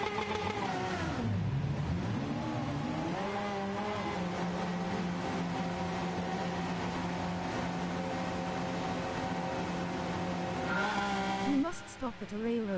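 Group 1 race car in Gran Turismo 7 revs hard, its engine pitch dipping and climbing through gear changes into a long sustained high drone, with a faint tire chirp near the end.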